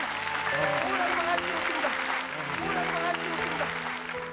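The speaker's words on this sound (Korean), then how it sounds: "여러분 축복의 박수로 좀 정말 쳐주세요." Studio audience applause during a Korean television broadcast about reuniting separated families, a continuous burst of clapping with people talking and a host's voice over it.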